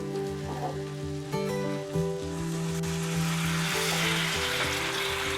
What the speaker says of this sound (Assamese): এতিয়া মই গৰম পানী দিম।